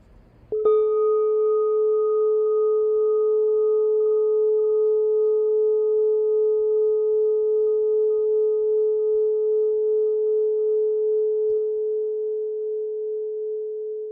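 A meditation bell is struck once and rings out alone as a clear, steady tone that sustains for over ten seconds, fading only slightly toward the end.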